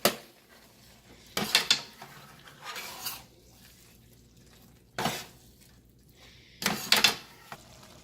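Manwich meat being mixed in a pan, brief bursts of scraping and clattering utensil strokes separated by quiet pauses, close and fairly soft.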